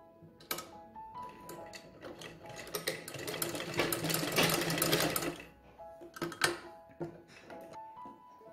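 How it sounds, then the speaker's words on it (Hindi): Sewing machine stitching a fabric face mask at home, bursts of rapid mechanical clatter rising to a sustained run in the middle, then short stop-start stitches, close and clear without talk. "यहाँ पर ये मशीन से स्टिच कर रही हूँ।"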